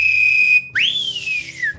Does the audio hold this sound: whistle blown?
yes